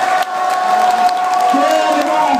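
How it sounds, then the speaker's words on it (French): A loud crowd cheers and applauds at a CS Meaux versus Chambly FC football match, a dense, continuous roar of voices and clapping with a sustained tone running through it. "Vous pouvez applaudir le CSP."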